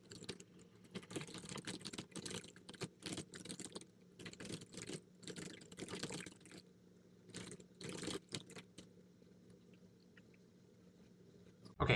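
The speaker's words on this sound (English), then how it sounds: "So here we're going to type in some basic stuff." Quick bursts of typing on a computer keyboard, soft close key clicks in irregular runs with short pauses, fading to near quiet near the end.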